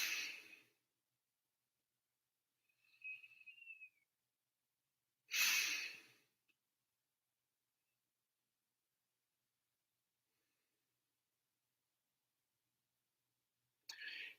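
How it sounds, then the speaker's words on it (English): Slow, deliberate breaths during a rhythmic breathing exercise at a New Year's Eve Kabbalat Shabbat: a few long airy exhales and inhales separated by long stretches of silence, close and soft. "take about 4 rhythmic long breaths in a row where you take the inhale and you definitely exhale"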